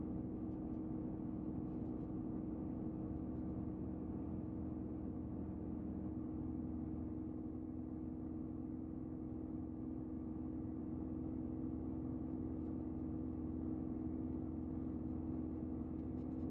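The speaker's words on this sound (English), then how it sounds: "I want to hear this engine drum or this engine hum a bit better." A steady low drone from an H135 helicopter's engine in Microsoft Flight Simulator, an even, unchanging rumbling hum that holds for the whole stretch with no voices over it.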